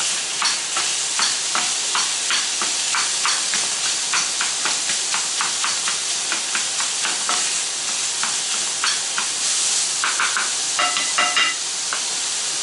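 Ground chicken for lettuce wraps sizzles steadily in a hot pan while a utensil breaks it up, its scraping strokes landing in a quick, irregular rhythm, close and fairly loud with no talking.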